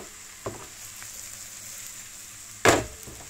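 Boletes and other wild mushrooms fry in butter in a pan with a steady soft sizzle, broken by a couple of sharper bursts as they are stirred or moved.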